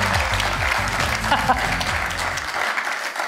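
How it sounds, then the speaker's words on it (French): An audience at a regional public-speaking contest final applauds Emma, a steady wash of clapping from many hands, while someone talks over it near the microphone. "Oh oui, applaudissements, ben oui."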